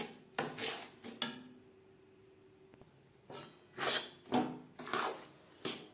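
A spoon scrapes around a pan of roasted semolina mixed with sugar syrup, in several distinct rough strokes with short quiet gaps between them, close and moderately soft, with no talking.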